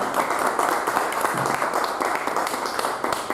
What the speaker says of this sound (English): how about a big round of applause for our panel tonight?